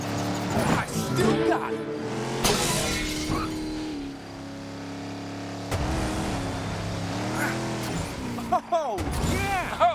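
Engines and tire noise from cars racing in a video game, loud and continuous with revving pitch sweeps, under excited talk from a player throughout.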